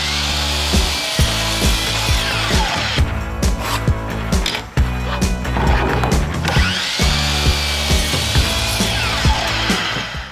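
A saw cuts wooden boards into 24-inch sections in a CNC woodworking shop, with loud, steady cutting in two long passes split by a short pause of knocks and clatter.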